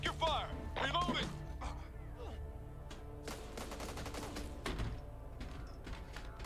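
Gunfire from the zombie co-op shooter Back 4 Blood, with rapid bursts of shots and mechanical clatter running through the scene under frequent player chatter and game voices.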